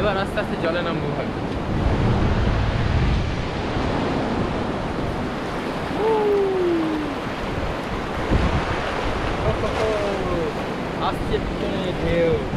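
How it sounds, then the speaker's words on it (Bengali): Surf breaks and rolls on the rocky shore at Digha beach, a loud, steady wash of waves with wind buffeting the microphone and faint voices and whistle-like calls in the distance. "অনেক ঢেউ আছে কিন্তু"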